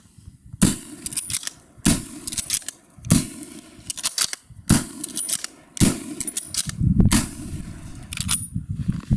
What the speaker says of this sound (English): So let's see if we can fire 6 rounds.